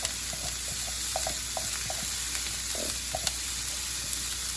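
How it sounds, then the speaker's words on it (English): Onions sauté in oil in a pan over medium-low heat, giving a constant close sizzle with a series of light spatula taps and stirring clicks scattered through it. "So what we're gonna do is saute our onions just till it's translucent."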